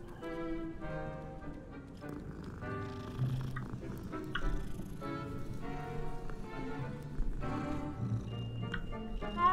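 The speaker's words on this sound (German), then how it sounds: "Hier sind so viele Katzen, ich muss weg." Several cats in the Hogwarts Legacy game meow and purr close by, a run of repeated tonal mews over soft ambient rustle, while a person talks intermittently.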